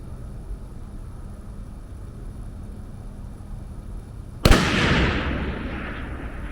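A rifle round striking a distant steel target, heard as a single sharp impact that rings and decays over a couple of seconds against steady outdoor background noise.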